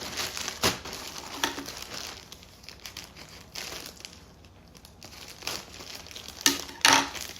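A plastic-wrapped package is torn open up close, giving bursts of crinkling and rustling. Sharp crackles come in irregular clusters, with quieter pauses between them and the loudest crumples near the end.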